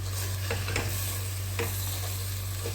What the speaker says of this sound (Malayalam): എന്നിട്ട് നമ്മൾ ചൂടാക്കി വെച്ച മസാലപ്പൊടി ഇട്ട് കൊടുക്കുക.